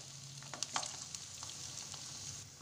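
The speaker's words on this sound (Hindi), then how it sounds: "ऑयल भी गरम हो गया है, उसमें हम कोफ्ते को डालते हैं।" Koftas fried in hot oil over a medium gas flame give a faint, steady sizzle with a few soft clicks and pops, quiet throughout with no voices.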